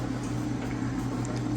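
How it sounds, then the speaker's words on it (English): A steady electrical hum with a low droning buzz, continuous and even throughout, with no talking. "Is that what that noise is? Yeah,"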